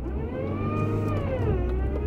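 A car engine revs in snow during an attempted reverse donut, a sustained whirring tone climbing and sliding in pitch, close and steady for about two seconds.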